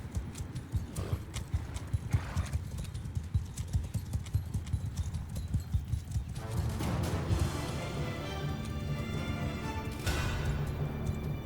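Rapid drumming of horse hooves in a continuous gallop in Mount & Blade II: Bannerlord, with a rumbling battle din swelling in the second half, fairly quiet overall.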